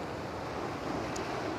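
Ocean waves on the Irish coast make a steady broadband wash and rumble, mixed with wind buffeting the microphone, with no voices.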